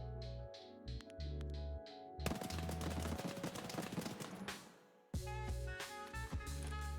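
Full-auto fire from a 7.62 MDR rifle in a shooter game, dry rattling bursts of rapid shots broken by short pauses, with one long sustained burst in the middle, heard alone and fairly close.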